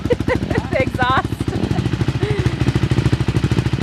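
A dirt bike engine idles and revs out in the desert with a fast, steady exhaust pulse, loud and close, while a person talks over it.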